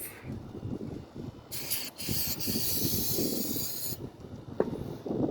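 An aerosol can of brake cleaner hisses in a sustained spray burst, up close, between softer rubbing and handling noises; a short click follows. Sprayed on a Triumph Tiger 1200 Explorer fork cap.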